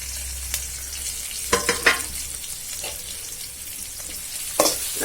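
Two chopped onions and green chilies sizzle and crackle steadily in a hot pan, with a few louder scraping stirs breaking through the constant frying hiss.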